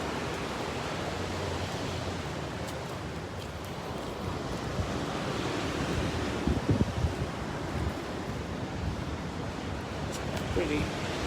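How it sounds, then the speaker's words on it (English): Ocean waves at Redondo Beach Pier in Torrance, California, roll in as a steady, broad wash of surf with wind noise on the microphone, continuous throughout with a few faint bumps and voices in the background. "Pretty big waves."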